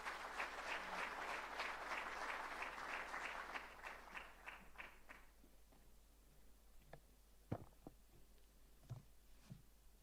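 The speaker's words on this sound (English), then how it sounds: "Please, a round of applause for Minister." An audience at the Africa Food Systems Forum 2026 launch ceremony applauds the agriculture minister with soft, fairly distant clapping that thins out and fades about halfway, leaving a quiet room with a few scattered clicks.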